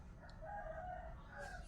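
A rooster crows once at a distance in a quiet rural area in the Philippines, a faint drawn-out call over low background rumble.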